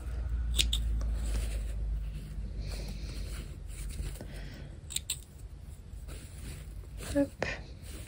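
Scissors snip sewing thread in a sewing workshop, giving a few short, crisp cuts close by amid light handling noise, with someone talking over them.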